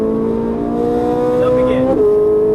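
A 560 hp Ferrari 458 Italia on a race track holds a loud, steady high-revving engine note that climbs and then drops sharply with an upshift near the end, the engine close and dominant throughout.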